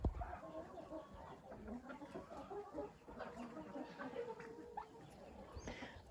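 Chickens, including a white rooster, cluck and call in a backyard poultry yard, a steady mix of overlapping bird sounds at moderate distance with faint background noise.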